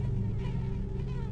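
Flies buzz in the video game Thief: The Dark Project, a steady close droning hum with slight wavering pitch, heard alone without talk.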